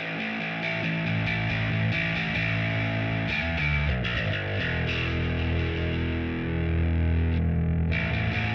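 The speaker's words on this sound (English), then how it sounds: "I'm gonna go to channel B now, the distortion channel, and I'm gonna sweep through the filter." Electric bass played through the distortion channel of an EBS Stanley Clarke signature preamp, giving a steady, gritty sustained tone whose character slowly shifts as the filter is swept, with a few note changes.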